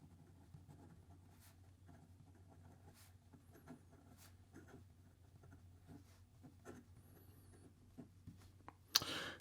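Nahvalur fountain pen with a stainless steel nib writing on paper, producing faint scratchy strokes and soft pauses in a quiet room, ending with a sharper knock or handling noise.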